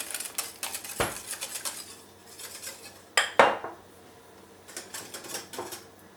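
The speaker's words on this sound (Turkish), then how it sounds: "Bu kaynayan sıcak çorba suyundan şu terbiyemize birazcık ilave edelim. Ve hemen karıştıralım." Hot soup broth being whisked into an egg mixture for a Turkish mock tripe soup, heard as quick metallic clinks and scrapes of a utensil against a bowl, with a couple of louder clatters partway through.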